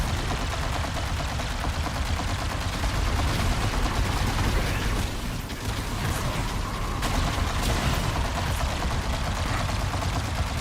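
Dense, continuous automatic gunfire in a shooter video game, loud and sustained with overlapping bursts and rattling mechanical clatter, barely pausing for about ten seconds.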